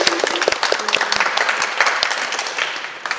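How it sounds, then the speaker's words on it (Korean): A roomful of people claps for Seongnam city officials during a public interview with the city's mayor, a dense burst of applause lasting a few seconds. "힘차게 박수 한번 쳐드리고 다음 질문으로 넘어가도록"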